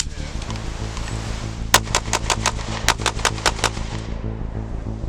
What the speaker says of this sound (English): One of the things that we focused on was firing a burst, more or less the old school suppressive fire.